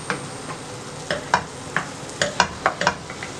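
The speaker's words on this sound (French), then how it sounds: "On mélange la viande avec les champignons" Minced meat sizzles in a pan with mushrooms and onion while a spoon stirs it, giving a steady low frying hiss broken by a series of sharp scraping and clacking strokes, close and fairly quiet, with no talking.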